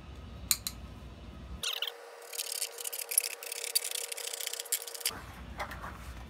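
Tin snips cut HVAC sheet metal in a series of sharp, close metallic bites and clicks, with a longer bright stretch of cutting in the middle.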